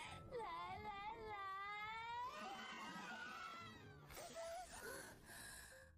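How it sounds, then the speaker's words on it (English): Close, wavering crying in a high voice rises and falls over several seconds, then breaks into short whimpering sobs and gasps. "hearing the sound of a child crying is definitely not a pleasant thing"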